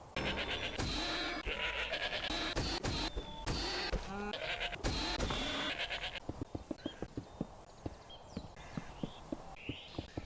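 Sheep being killed in the modded Minecraft game DawnCraft, with a busy stretch of bleating, hits and game effects giving way to a run of sharp rhythmic footstep-like clicks, no talking.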